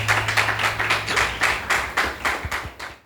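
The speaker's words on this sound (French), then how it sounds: "Sous vos applaudissements," An audience at a talk-show-style event claps in a steady, rhythmic pattern, with distinct individual claps at a moderate level and no talking over them.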